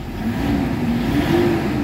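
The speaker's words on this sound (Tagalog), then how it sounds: "Kita mo yung response ng makina guys" A Toyota Hilux engine revs during a test drive after a hydrogen engine treatment, giving a loud, close, steady mid-low drone that swells slightly, with no voices.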